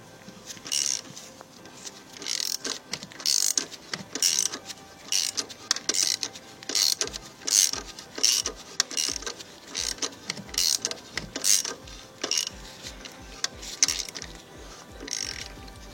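Ratchet tightening a bolt on a car exhaust, a fast clicking pawl repeating in steady bursts for the whole stretch, close and fairly loud with mechanical rattle between strokes.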